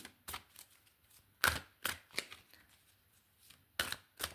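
Tarot cards shuffle and flick in a quiet room, giving a few sharp riffling bursts spaced irregularly, with no voices.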